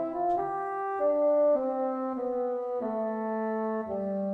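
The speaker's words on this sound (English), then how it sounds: "I'll just go to a long sounding bassoon." Long sustained bassoon notes from a VSL Special Edition sample library, a slow line of six or seven held tones stepping downward, hollow and reedy, played alone and close.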